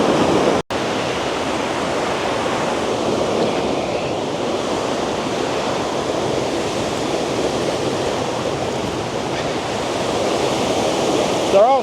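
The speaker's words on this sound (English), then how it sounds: "there's quite a bit of flow coming off this upper falls" Powerful, continuous roar of a waterfall, a broad steady rush of falling water heard up close with no letup.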